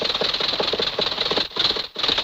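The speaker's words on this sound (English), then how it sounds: "as Rocky raced the engine of the truck, the exhaust acted like a tiny jet" Cartoon truck engine racing hard with a steady rattling, sputtering drone, then briefly cutting out and catching again twice as it runs out of gas, loud and close with no talking.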